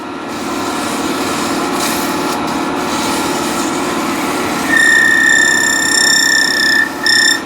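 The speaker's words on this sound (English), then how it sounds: "So a little bit of sanding." A wooden trinket box spins on a woodturning lathe under 320-grit sandpaper, a steady motor hum that turns into a sharper, high whine partway through as the abrasive presses against the turning wood.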